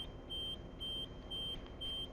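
Reversing beeper on a truck in Euro Truck Simulator 2, sounding as regular high-pitched beeps, about four evenly spaced pulses, steady and clear over a low engine rumble.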